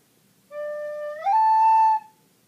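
Recorder plays a phrase from a song as fingers lift in quick succession, a pure sustained note stepping up to a higher held pitch, close and solo, about one and a half seconds long.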